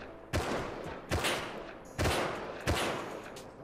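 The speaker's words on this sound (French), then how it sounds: "qui nous tire dessus" Gunfire from an enemy player in the game Rust: four sharp, loud shots spaced about a second apart, each followed by a short fading tail.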